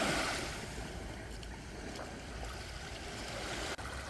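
Gentle sea waves wash in and out on a sandy shore, a steady soft wash of surf with some low rumble, continuous and moderately quiet, with no voices.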